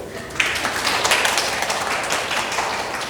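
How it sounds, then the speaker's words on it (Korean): An audience at an artist talk in a university museum's special exhibition applauds a Korean-style painting artist. The clapping is moderately loud and steady for about three seconds, with no talk over it. "큰 박수 한번 주세요"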